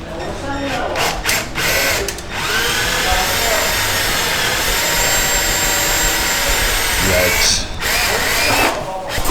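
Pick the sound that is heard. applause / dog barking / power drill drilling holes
power drill drilling holes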